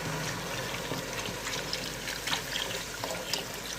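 Water is poured into a simmering kofta and egg curry before it is left on low heat, a soft continuous splashing and trickling heard close up with no talk.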